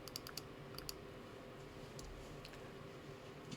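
Soft, scattered keystrokes on a computer keyboard click faintly at a distance over a steady low hiss, in brief irregular bursts with no talking.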